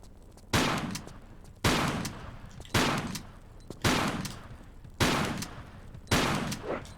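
Gunfire from a wide-shot weapon in a Tomb Raider level editor game rings out as six loud, evenly spaced blasts about a second apart, each a sharp crack with a long decaying boom.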